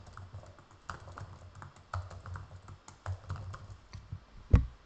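Typing on a computer keyboard while coding a command-line app, irregular bursts of close keystrokes with short pauses, ending in one louder key strike.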